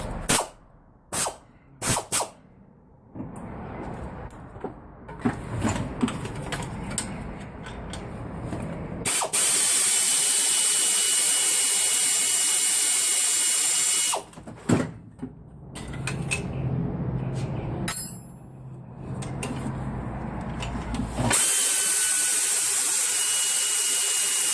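A power tool, likely an impact or ratchet tool, removes the belt tensioner from an engine bracket during an OBS R4 and Sanden compressor bracket install, with several loud sustained bursts separated by short clicks and handling noise.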